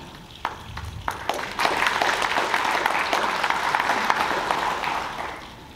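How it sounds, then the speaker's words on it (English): Audience applause at a keynote address on labour law, a few scattered claps that swell into steady clapping from a moderate crowd in a hall, fading toward the end. "you'll have to clap after every bullet point."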